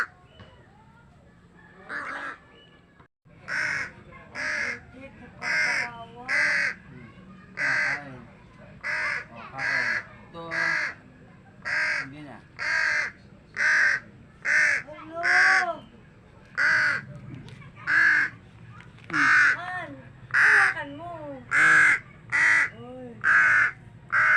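Crows caw repeatedly in a steady series of harsh, loud calls, close by, with faint background noise between them.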